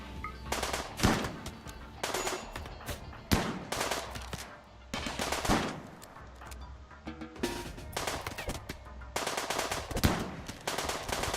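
Rapid machine-gun bursts and scattered gunshots from a Rimworld colony battle sound in dense repeated volleys, loud and continuous across the whole stretch with no talk.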